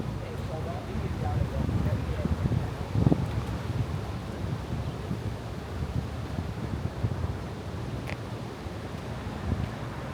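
Outdoor wind on the Las Vegas Strip in the early morning rumbling and buffeting the microphone, with a constant low roar and occasional gusts and rustling of palm trees.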